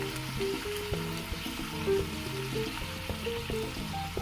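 Papdi dough fries in hot oil, giving a steady, soft sizzle and bubbling with faint crackles throughout, close and fairly quiet, with no voices.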